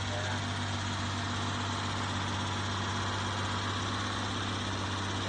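A Mitsubishi Eclipse engine idles with a steady, close low rumble, a light lifter tapping faintly ticking within the drone.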